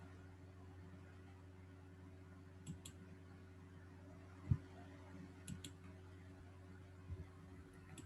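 Several sparse computer mouse clicks while working in SPSS statistics software, short quiet ticks spread over a low steady background hum, one sharper click standing out in the middle.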